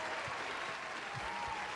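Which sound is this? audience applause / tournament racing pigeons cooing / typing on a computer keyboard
audience applause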